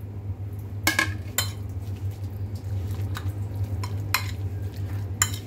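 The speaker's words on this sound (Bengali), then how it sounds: "এখন আমি এটা একটু চামচ দিয়ে মেখে নিচ্ছি।" A spoon stirs and mashes raw chicken mince mixed with chopped onion, green chilli and coriander for momo filling, giving soft squelching strokes with a few sharp metallic scrapes and clinks against the bowl, close and steady.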